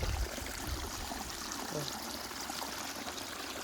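Rainwater rushes over a flooded road during a downpour, a constant, loud, hissing flow of water that fills the whole stretch without letting up.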